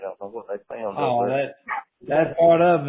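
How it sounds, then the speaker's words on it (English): Dogs bark at a home in the background while someone talks over them in a conversation, the barks blending into and under the steady speech. "I apologize for my dogs barking."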